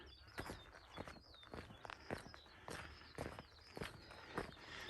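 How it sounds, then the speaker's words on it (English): Faint bird song chirps and trills in the distance on a Yorkshire hill route, partly covered by louder crunching footsteps of walkers and runners nearby. "It's a bird song."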